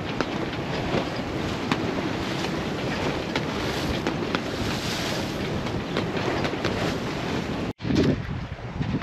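A sailboat runs under sail on the way from Leuca toward Corfu, with a constant loud rush of wind and water against the hull that holds steady before cutting out briefly near the end.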